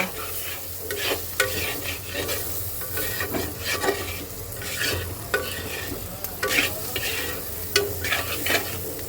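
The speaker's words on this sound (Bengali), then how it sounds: "আর মিনিট দুয়েক এটাকে একটু তেলের মধ্যে ভেজে নেব" A spice paste with salt and ground cumin fries in oil for a catfish and potato curry, with steady repeated stirring scrapes over a continuous close sizzle.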